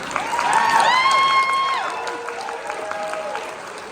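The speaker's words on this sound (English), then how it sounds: "one enthusiastic round of applause" Audience applause at a 2026 real estate association installation ceremony for newly installed directors and a president: steady crowd clapping, with bright sustained tones sounding over it early on before fading.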